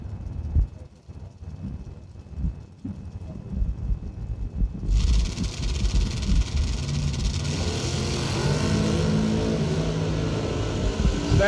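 Drag racing car idling and rumbling at the start line during a bracket race, then a loud, sustained engine roar as it launches and pulls away, heavy and continuous to the end.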